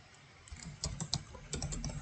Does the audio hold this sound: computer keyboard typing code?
yes